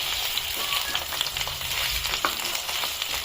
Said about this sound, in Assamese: আলু কেইপিচ অলপ ভাজি ললো